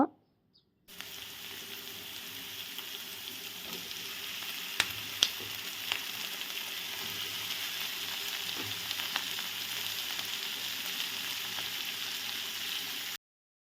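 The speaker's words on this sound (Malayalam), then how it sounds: "നല്ല ഒരു ബ്രൗൺ ആകുന്നത് വരെ ഇളക്കി കൊടുത്തുകൊണ്ടിരിക്കുക." An onion mixture stir-fries in a pan, browning in oil with a steady close sizzle and a few sharp clicks of a spatula against the pan.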